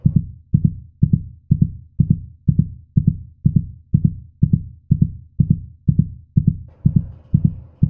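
A steady heartbeat plays as a sound effect, a deep double thump repeating evenly about twice per second, loud and close, alone with no other sounds.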